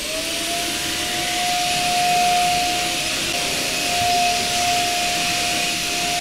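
A Proscenic P11 compact stick vacuum runs continuously with a steady airy roar and a thin, high motor whine, swelling slightly in loudness as it moves, with no talking.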